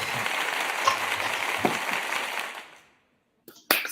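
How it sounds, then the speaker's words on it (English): Applause from an audience rings out steadily for a few seconds, fades into a brief silence, then a few scattered claps return at the end. "So we are giving you this round of applause"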